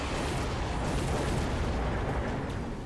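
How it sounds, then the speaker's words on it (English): A barrage of missiles rains down on a Rhino unit in Mechabellum, a dense, continuous roar of overlapping blasts and rumbles at steady high loudness with no pauses. "that is also a lot of missiles that just came down on a Rhino that didn't do a whole lot"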